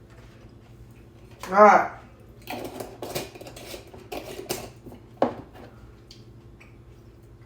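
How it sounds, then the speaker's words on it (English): Freshly pulled onions are dropped into a container in a home kitchen, landing with one dull clunk followed by a few light clattering knocks, while a person talks nearby. "I'm gonna drop these onions I just pulled out and drop them into there"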